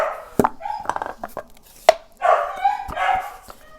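A dog barks indoors, a few sharp close yips and whimpering barks at irregular intervals, loud and alone without talk.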